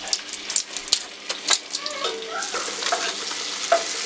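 Butter melting and sizzling in a pan on the stove as the base for a lasagna bechamel, a steady close frying hiss with a few sharp crackles and pops and no talking.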